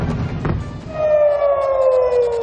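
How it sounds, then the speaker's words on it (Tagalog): Air raid siren wailing across Tel Aviv, Israel, during missile attacks, a loud sustained tone rising then holding steady after a rumbling start, with faint distant echoes of other sirens. "ang alingaw-ngaw na mga sirena sa Tel Aviv,"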